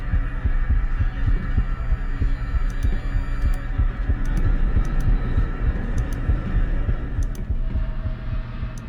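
A steady, heavy heartbeat from the horror video game Detention throbs in a continuous rhythm over a low droning hum, loud and close with faint high clicks above.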